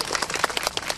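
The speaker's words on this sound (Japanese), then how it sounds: "はい、拍手。" Brief, lively clapping from a crowd at an outdoor football club fan caravan as a player is introduced; a short burst of applause, fairly close, with no talking over it.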